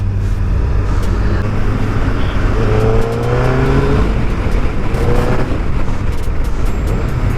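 Suzuki Hayabusa motorcycle engine accelerating on a highway during a demo ride, a steady loud roar with rising harmonic tones as it pulls through the gears, continuous wind noise throughout.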